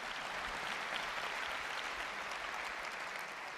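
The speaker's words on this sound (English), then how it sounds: "You can clap, it's good." Audience applause at Apple's WWDC 2016 keynote, a steady, even wash of clapping from a large hall, moderately loud and unbroken for the whole moment.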